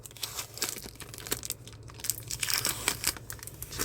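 A tape-sealed bag of gold paydirt is torn open, giving loud crinkling and ripping plastic noises in quick irregular bursts, close up and without talk.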